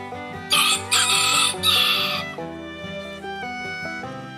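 Domestic chickens in a farmyard, with a rooster crowing loudly in several close, bright bursts over steady clucking from hens that keeps going after the crowing ends.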